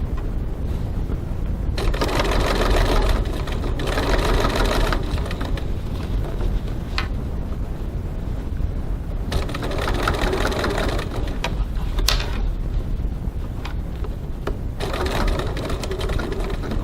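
A sewing machine runs a long basting stitch through thick bag fabric in bursts, a fast mechanical whirr starting and stopping several times with short pauses between runs, close and steady with no voices.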